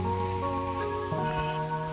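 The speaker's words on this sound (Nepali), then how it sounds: "पानी पुरा परिरहेको छ" Steady rain falls on a foggy mountain road in Nepal, a soft even patter heard from inside a moving vehicle, with a low engine hum underneath and no talking.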